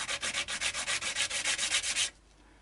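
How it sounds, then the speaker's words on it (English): Fine-grit sandpaper rubbing back and forth across a guitar nut on an Epiphone SG during setup, a rapid, steady rhythm of close, crisp scratchy strokes that stops abruptly near the end. "once we get close we can transfer to the finer grade of sandpaper"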